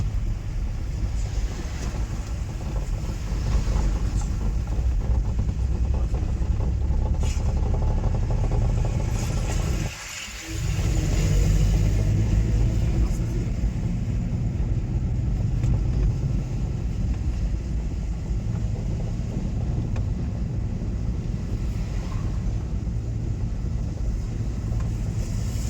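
A manual car, shifted into second gear on a main road, drives with a steady, loud engine drone that briefly drops away once midway and then resumes at the same level.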